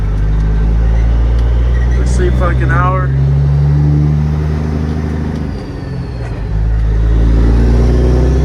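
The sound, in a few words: semi truck driving to a truck stop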